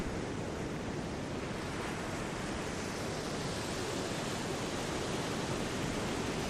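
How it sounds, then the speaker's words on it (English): Steady broadband wash of ocean surf rolling onto a shore, a continuous even roar with no distinct breaks, fairly soft and constant throughout with no voices. "Listen to the rolling waves"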